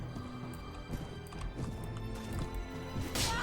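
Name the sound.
horse galloping in Mount and Blade: Warband video game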